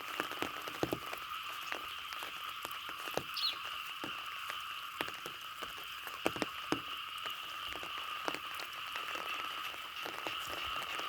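Heavy night rain falling at a village in Thailand, a steady dense patter with scattered sharper drops landing nearby, continuous and fairly loud throughout with no voices.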